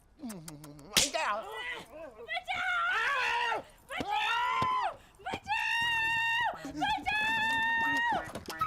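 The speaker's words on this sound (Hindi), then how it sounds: "चिल्ला क्यों रही है?" In a Hindi comedy film scene, a woman lets out a series of loud, high-pitched screams, several long wavering shrieks one after another, opened by a sharp crack.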